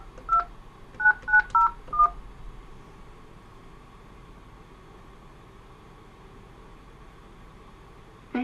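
Five short telephone touch-tones dialing a lab extension on a home lab phone system, crisp evenly spaced beeps near the start, then a faint steady hum on the line.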